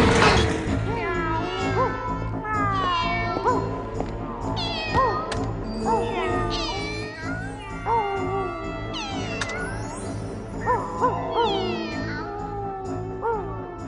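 A cat meows repeatedly, a string of loud, rising and falling cries with short gaps between them over about fourteen seconds, some drawn out into wailing yowls, with faint clattering underneath.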